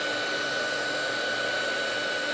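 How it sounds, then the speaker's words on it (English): A heat gun blows hot air during a layered stencil craft project, producing a steady, unbroken whooshing roar with a faint high whine, close and constant with no talking. "So I'm using a heat gun."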